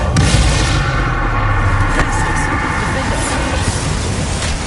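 Bombarda spell explosions in Hogwarts Legacy blasting hexags apart, a loud, dense, continuous rumble with booming thuds and no break in the din.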